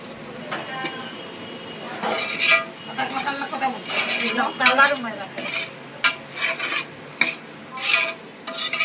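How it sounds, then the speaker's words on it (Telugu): A spoon stirs and scrapes through thick gravy in a cooking pot for a Rayalaseema family's uggani. The scraping comes in irregular strokes with soft sizzling and occasional sharp clinks against the pot. "మొత్తానికి గ్రేవీ అనేది బాగా మిక్సింగ్ చేస్తున్నారు"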